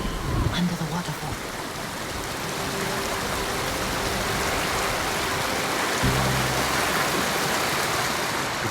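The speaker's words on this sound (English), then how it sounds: "Under the waterfall." A waterfall in the video game Ghost of Tsushima sends out a steady, broad rush of falling water, with a few brief low tones sounding over it.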